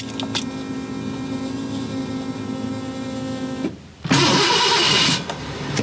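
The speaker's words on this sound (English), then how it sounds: "Now that'll be the true test of doing a hot start here in the driveway." A Ford Bronco II fitted with Holley Sniper EFI hot-starts in a driveway: a steady electric whir, a brief dip, then the engine catches into a loud rough idle close by.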